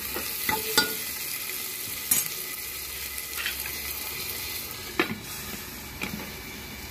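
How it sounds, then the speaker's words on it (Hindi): Chopped tomatoes frying in a pan for green moong dal khichdi, a steady sizzle running throughout with occasional sharp clicks of a spoon stirring against the metal, close up and without voices. "मैं अच्छी तरह से हम भून लेंगे।"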